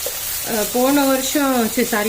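Grated carrot and beetroot sautéing in a pan for halwa give a steady low sizzle through the short stretch, under a sustained tonal humming voice.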